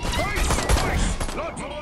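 Gunfire in the video game Destroy All Humans! crackles in rapid, dense bursts amid chaotic action sounds, loud and close, with voices shouting over it.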